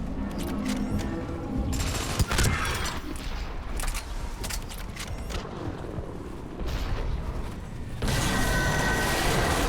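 Shotgun fire in the Mass Effect 3 video game, a rapid fusillade of sharp gunshots and booms packed across the stretch, loud and dense, with mechanical clatter and battle noise between blasts.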